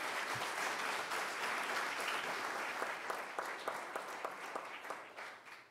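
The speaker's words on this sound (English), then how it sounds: "let me ask you just a round of applause for all the folks who planned this" An audience at a cybersecurity conference for lawyers applauds the event organizers, a full round of clapping that holds steady and then thins into scattered individual claps as it fades out.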